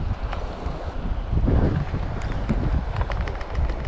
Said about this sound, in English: Try to get out of the wind for you fellas.